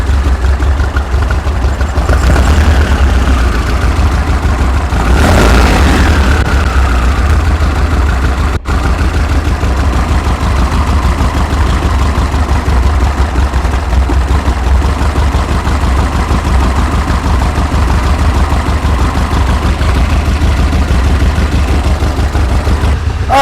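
A 1973 VW Super Beetle engine idles steadily while warming up, a loud, close, continuous low rumble with a brief rise in pitch early on.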